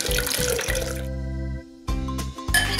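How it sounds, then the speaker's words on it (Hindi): Mango pulp water pours and splashes into a blender jar in short gurgling bursts, with a brief lull before a final splash. "इसमें ये सारा ये पल्प वाला पानी हम डालेंगे इसमें"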